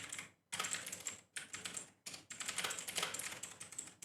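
Close, quiet typing on a computer keyboard, rapid key clicks in three bursts separated by brief pauses, with no voice.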